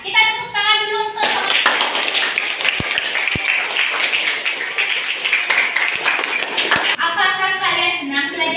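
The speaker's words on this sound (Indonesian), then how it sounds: "Ya, kita tepuk tangan dulu untuk" A classroom of students claps together at the teacher's call, a dense burst of applause lasting several seconds between stretches of a teacher speaking.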